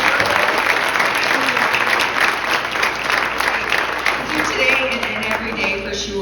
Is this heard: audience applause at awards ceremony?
yes